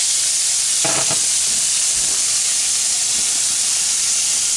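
Burger patties sizzle loudly and steadily in a hot pan for a shepherd's pie burger, with a couple of quick clanks and scrapes as they are flipped early on, then an even hiss.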